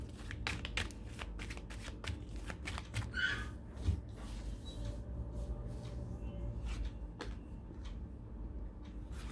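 Playing cards being shuffled at a tarot-style card reading, a quick run of crisp riffling snaps and flicks, close and quiet, with soft handling sounds between bursts.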